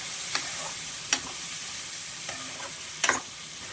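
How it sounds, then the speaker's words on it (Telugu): Tomato and potato pieces being stirred into a frying potato and drumstick curry, with a steady soft sizzle broken by a few sharp spoon scrapes against the pan, close and alone with no talking. "అలాగే టమాటా ఆలుగడ్డ వేసుకుందాం. కలుపుకోవాలి."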